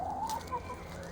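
A hen feeding on artichoke leaves in a winter vegetable garden gives a short rising cluck followed by a few quieter murmurs, faint and nearby over soft outdoor ambience.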